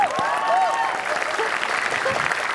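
A studio audience applauds on an Indonesian television talk show, a steady dense wash of clapping with whistles and cheering voices rising through it for the whole stretch.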